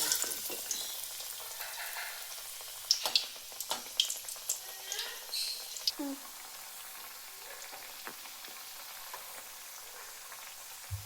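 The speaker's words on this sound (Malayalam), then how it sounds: "എന്താ പരിപ്പ് വട ഇവിടെ കിടന്ന് തിളച്ച് എണ്ണയിൽ കിടന്ന് മുരിയുന്നു." Parippu vada, shaped lentil fritters, bubble and sizzle in hot oil, three at a time, with a soft continuous frying crackle and sharper spits and pops scattered through, close and fairly quiet.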